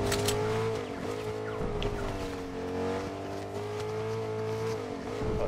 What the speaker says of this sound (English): Something driving by.